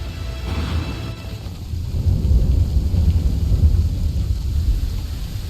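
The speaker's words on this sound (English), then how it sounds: "I'd say it's high time we find some cover from this storm" Thunderstorm with heavy rain in Assassin's Creed 3 Remastered: a steady, close wash of rain hiss over deep rolling thunder that swells louder midway and keeps rumbling to the end, with no talking.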